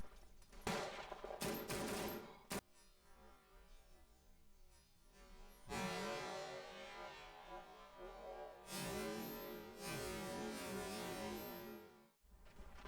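Hotchkiss machine gun fired by a Belgian gunner in the PC game Verdun, heard as loud bursts of rapid automatic gunfire, a short burst early, then longer sustained strings of shots with brief pauses, no talk.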